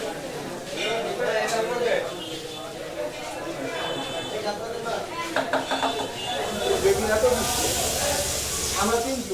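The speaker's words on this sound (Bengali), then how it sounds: "আমাদের মাছটা প্রসেস হচ্ছে, ভাজি করা হচ্ছে।" Padma hilsa fish frying in a pan, a steady sizzling hiss with clinks of metal utensils, loud and close, under ongoing talk.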